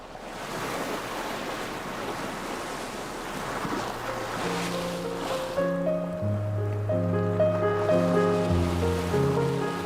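Waves roll and wash at an English seaside, a steady close surf with soft wind that continues as a gentle piano melody rises and takes over in the second half.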